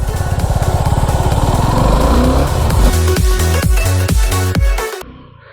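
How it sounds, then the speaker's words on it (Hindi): A Suzuki Gixxer SF 250 motorcycle revs and pulls away in first gear, its engine loud and close with a steady rising drone, then rhythmic throttle pulses before cutting off abruptly near the end. "वो स्विच दबाने के बाद अब हम अपना सेल्फ दबाते हैं और अपनी पहली गियर को"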